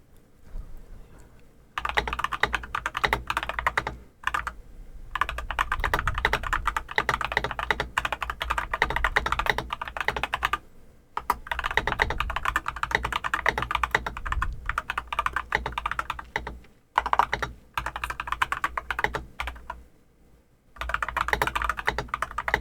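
Close, crisp typing on an Akko keyboard fitted with tactile switches, dense bursts of keystrokes broken by a few short pauses, steady and fairly loud throughout.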